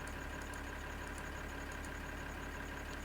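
A silage harvester in Farming Simulator 2013 idles with a steady, even mechanical hum and faint rhythmic knocking, fairly quiet and unbroken, with no voices over it.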